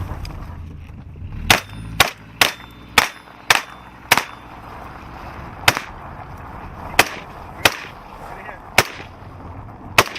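Rifle gunfire rings out during a security training shooting drill, with about a dozen sharp, loud, close shots: a quick run of rounds at first, then more widely spaced single shots.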